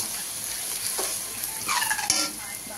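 Mutton pieces hit a hot pan and set off a soft, steady sizzle, with a brief stirring scrape and light clinks near the end.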